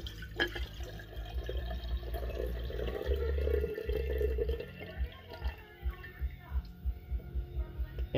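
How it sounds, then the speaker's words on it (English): Sodium carbonate solution is poured slowly into a new container, giving a soft, steady trickle over a low hum that fades into faint drips near the end. "we are going to slowly pour out the sodium carbonate solution"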